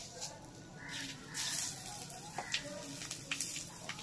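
Panch phoron five-spice seeds crackle and sizzle in hot oil in a home kitchen, a steady bright frying hiss with small pops and sharper spits toward the end, close and moderately loud, with no talking.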